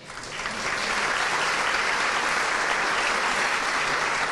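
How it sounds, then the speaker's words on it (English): An audience at a city State of the City event applauds the mayor and city council members, the clapping swelling in within the first half second and then holding as a dense, sustained roar. "you can clap for them"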